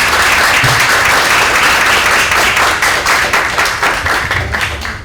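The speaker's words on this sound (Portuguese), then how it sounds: "peço uma salva de palmas" Loud, dense audience applause for a professor at an academic conference opening, sustained and even before gradually thinning toward the end.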